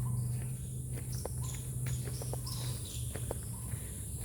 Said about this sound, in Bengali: একটা সুন্দর মানে বেশ ঝিঝি পোকার ডাক আসছে